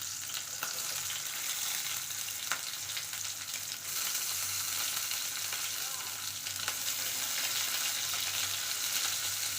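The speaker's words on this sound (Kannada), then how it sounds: "ಇವಾಗ 2 ಉಳ್ಳಾಗಡ್ಡಿನ ನಾನು ಇದಕ್ಕೆ ಹಾಕ್ತೀನಿ." Onions frying in oil with curry leaves for mutton sukka: a steady, loud, close sizzle runs throughout, with occasional sharper crackles and spits. No voices.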